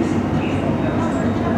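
A London Underground District Line S7 Stock train runs between stations, a loud continuous rumble of wheels and motors heard from inside the carriage, steady throughout.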